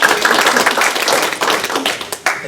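Attendees at a county planning meeting give a loud round of applause, bright close clapping with distinct individual claps that thins and becomes more scattered toward the end.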